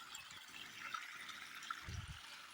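A forest stream runs with a faint, continuous rushing, and a couple of soft low thumps sound near the end.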